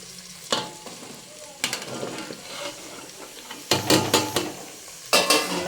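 Radish pieces for a Telangana-style radish pickle fry in a pan with a low sizzle, broken by several loud bursts of spoon scraping and stirring against the metal.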